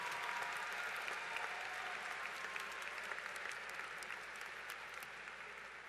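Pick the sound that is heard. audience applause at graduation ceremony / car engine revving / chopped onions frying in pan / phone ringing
audience applause at graduation ceremony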